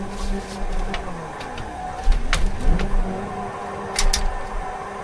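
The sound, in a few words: van engine revving while drifting in BeamNG video game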